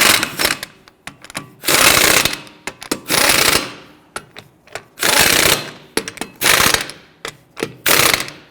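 Someone tightens the front wheel lug nuts on a 2012-2019 Fiat 500 with a ratchet, producing loud, close bursts of rapid mechanical clicking separated by brief pauses, with no talking.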